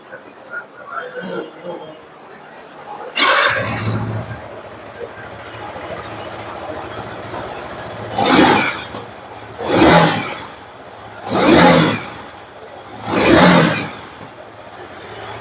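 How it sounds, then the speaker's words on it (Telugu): A 2024 Yamaha R15 V4 motorcycle starting up, then revving in four evenly spaced, rising throttle blips from the exhaust, close and loud, with brief idle between each. A voice talks briefly before startup. "సో ఇది ఈ బైక్ ఒక ఎగ్జాస్ట్ నోట్."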